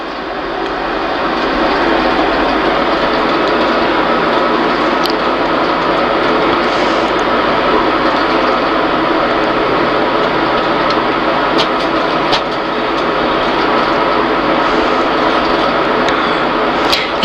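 Steady loud drone of a light aircraft engine in cruise flight near Auckland, continuous broadband roar with cabin noise throughout and no speech.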